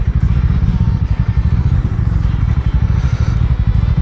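Harley-Davidson X440 motorcycle engine while riding, a steady loud low rumble with a dense throbbing pulse that holds throughout with no break.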